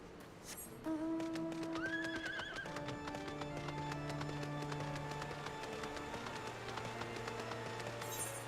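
A horse in the Final Fantasy XIV video game neighs loudly and clops its hooves at a steady pace, set against a sustained musical soundtrack.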